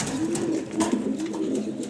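Close, continuous cooing from a spirited male loft pigeon, a low rolling call that carries on without pause, moderately loud and alone, with no talk over it.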